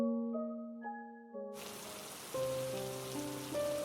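Heavy rain pours down in a dense, constant wash that breaks in suddenly and keeps going, while sustained musical tones sound softly beneath it.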